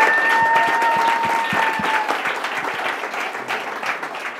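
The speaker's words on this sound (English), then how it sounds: "one more round of applause for our panel this evening" An evening audience applauds a celebrity dance panel at a forum, a dense, loud burst of many hands clapping that slowly thins and softens toward the end.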